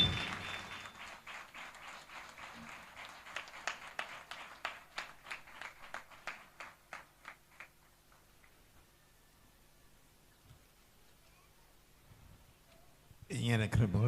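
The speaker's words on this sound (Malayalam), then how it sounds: "ഈ വേദിയിലേക്ക് നിറഞ്ഞ കയ്യടിയോടെ സ്വാഗതം ചെയ്യുന്നു" Audience applause at a Pentecostal council gathering greets a chief guest to the stage, a burst of clapping that swells then fades into a run of distinct claps before quiet, with another loud burst at the end.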